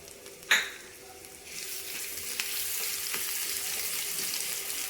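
Garlic and dry red chillies hit hot mustard oil for Bengali masoor dal with a sharp splash, then settle into a steady close sizzle with occasional stirring scrapes, no talking.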